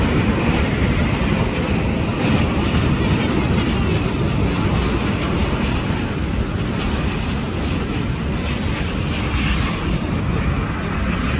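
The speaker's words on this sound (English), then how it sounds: "Arriving from Singapore Changi Airport, Singapore A350 1000." A Singapore Airlines Airbus A350-1000 arriving at Los Angeles airport, a steady loud broadband jet engine roar that holds without letup, heard from nearby.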